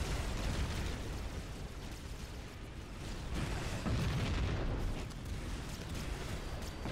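Rocket explosions in Halo CE roll on as continuous rumbling blasts and bursts across a co-op firefight on Legendary difficulty, moderately distant and steady.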